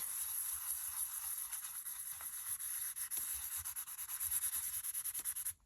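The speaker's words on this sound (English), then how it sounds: "add a little bit more detail with some ink rubbing around on it" Close, steady rubbing and scratching as ink is worked by hand over the embossed cover of a handmade no-sew journal, a continuous dry scraping texture with small rhythmic strokes and no voices.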